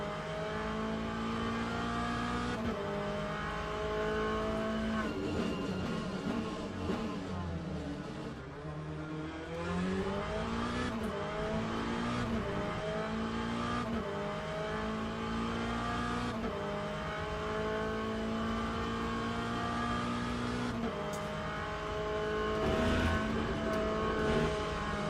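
A race car lapping in the sim racing game Le Mans Ultimate, its engine droning loud and continuous as it climbs through gears, drops for braking into corners and revs back up, with no talk over it.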